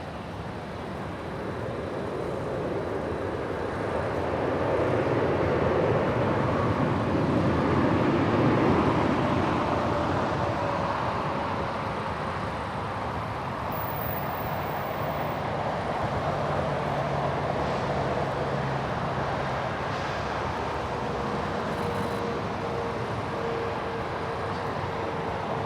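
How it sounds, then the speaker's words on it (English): Airbus A350 airliner departing LAX, a broad, steady jet roar that swells and then holds as a long, distant rumble with no voices. "Let's just sit back and admire the A350."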